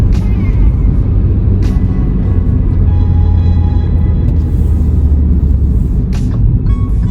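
A 2024 Hyundai Grand i10 Sedan with a naturally aspirated engine pulls steadily through the gears, a loud continuous low drone that rises and dips with each shift, heard close and alone without talk.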